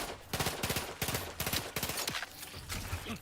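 Enemies fire at the player in a video game, sharp rapid bursts of shots in quick clusters, fairly quiet and close, with brief gaps between the volleys.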